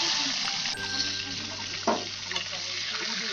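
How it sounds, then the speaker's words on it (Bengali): More pabda fish go into hot oil in a kadai, giving a steady sizzling hiss with brief splashy crackles as the pieces land, close and moderately loud. "আর যা বাকি মাছগুলো আছে আমি সব কড়াইতে দিয়ে দিচ্ছি।"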